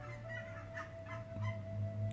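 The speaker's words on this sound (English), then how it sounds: "Geese are getting very loud." Geese honk outdoors in a loose series of nasal calls, moderately loud and somewhat distant, over a steady low background drone.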